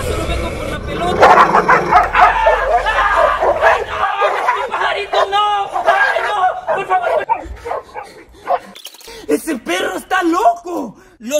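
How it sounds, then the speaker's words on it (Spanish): A small dog yips and barks repeatedly close by, mixed with excited chatter from people talking over it, the barks sharp and high through most of the stretch. "¡Ay, qué bonito el perrito!"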